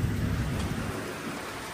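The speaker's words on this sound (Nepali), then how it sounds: "कत्रो पानी पऱ्यो यार फेरि।" Heavy rain pouring down on a ride from Ilam to Upper Mustang, a dense, loud wash of rainfall with deep low rumbling underneath, steady throughout and without talking.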